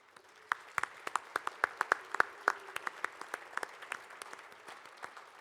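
Scattered, fairly quiet clapping from a small audience for Civico Leadership Academy fellows at a governor's leadership celebration: a loose series of distinct individual claps rather than a dense ovation.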